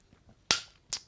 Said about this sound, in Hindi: यहां ताली बजाकर परमेश्वर को धन्यवाद देंगे